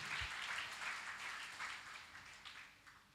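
A church congregation claps together after a sermon, a quiet, even patter of many hands from a short distance, easing off slightly toward the end.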